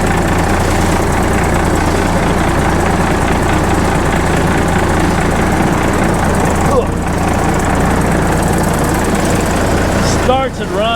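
The diesel engine of a 1980 International dump truck runs at a loud, close, steady idle with a rough, knocking rumble and vibration, and a brief voice comes in near the end.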